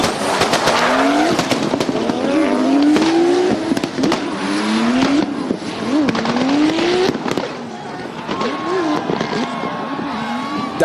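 Rally drift cars at a desert event in Muscat launch hard off the start line together, engines screaming through rising gear pitches with tire squeal, loud and close, with no voices.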